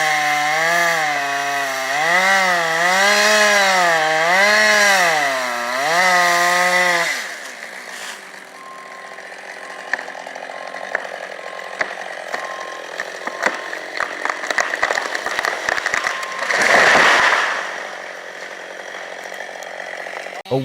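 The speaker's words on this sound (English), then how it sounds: "A worker cuts a large tree in the middle of the forest with a chainsaw." A chainsaw cuts a large tree in a forest: first a loud wavering engine whine as the throttle rises and falls, then quieter crackling and snapping as wood splits, ending with another brief loud surge.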